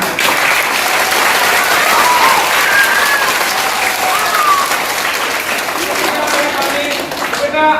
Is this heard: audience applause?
yes